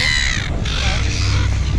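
A flock of birds caws loudly and close by in Queenstown, New Zealand, with harsh, overlapping calls repeating one after another.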